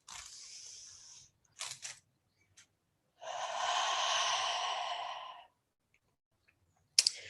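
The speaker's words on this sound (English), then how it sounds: "Take a nice deep breath." A slow, deep breath drawn in and let out during a calm mindfulness practice, a soft sustained airy rush preceded by short sniffs and ending in a faint click, close and quiet with no talking.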